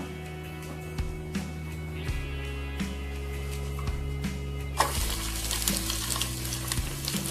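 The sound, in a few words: onion and curry leaves tempered in coconut oil, sizzling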